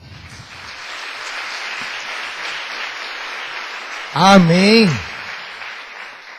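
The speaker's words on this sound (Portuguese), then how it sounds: "Quem pode dar uma salva de palmas?" Applause from a church congregation at a pastors' meeting: steady, dense clapping throughout, with one voice calling out briefly near the end.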